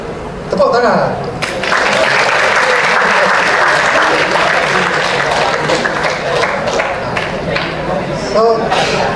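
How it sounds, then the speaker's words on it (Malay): A lecture audience at a talk on innovation breaks into applause, with dense, loud, sustained clapping that swells after a brief spoken moment and continues to the end. "Tepuk tangan."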